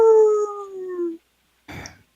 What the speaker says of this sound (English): dogs have been howling lately.